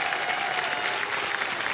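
Studio audience claps in a dense, steady burst of applause on a television quiz show stage, loud and sustained throughout with no voices over it.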